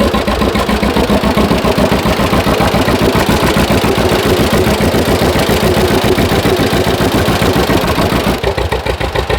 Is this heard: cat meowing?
no